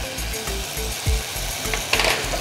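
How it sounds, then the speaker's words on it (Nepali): Spices including turmeric, chili, cumin powder, coriander powder and salt frying in a pan for fapar, a steady close sizzle with a few light scrapes and clatters. "यति राखिसके मसला राखिसकेपछि यसलाई एकैछिन भुट्ने"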